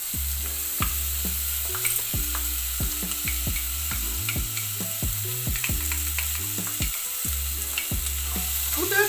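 Ingredients for lentil soup sauté in a pot with a steady, bright sizzle, broken by frequent scraping and clinking as a utensil stirs, continuous and close with no talk.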